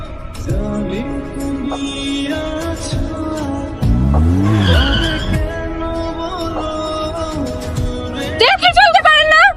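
A car brakes hard and its tires squeal as it skids to a stop close to a pedestrian on a street, a loud screeching burst amid engine hum and musical tones, briefly rising again near the end.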